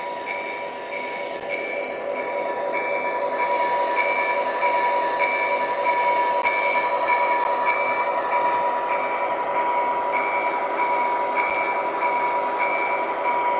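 An O scale model train rumbles steadily along the track for the whole stretch, with a sustained high metallic whine riding over the continuous running noise.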